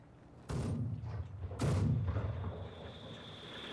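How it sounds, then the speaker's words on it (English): Heavy mortar rounds landing in a Company of Heroes 2 match, two deep booming blasts about a second apart, each with a long rumbling tail. "Big damage from the heavy mortars."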